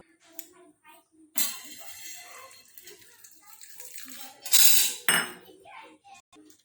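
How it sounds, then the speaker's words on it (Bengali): Eggs and water are mixed in a bowl for a cake, with clinking utensil strokes against the bowl and a couple of louder splashing bursts between quieter stirring. "এবার একটু পরিমাণ মতো জল দেব, দিয়ে মিক্স করব।"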